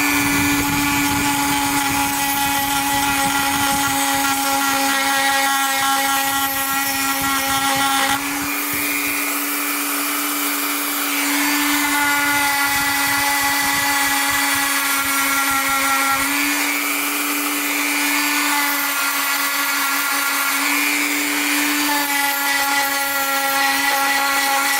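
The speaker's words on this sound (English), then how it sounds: "Let's deburr the cylinder here." A high-revving power tool grinds burrs from the cylinder of a neglected 2-stroke dirt bike, a steady shrill whine that dips and surges in pitch as the bit bears into the metal, loud and close with no talk.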